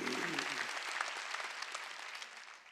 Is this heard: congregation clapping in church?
yes